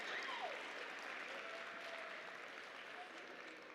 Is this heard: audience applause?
yes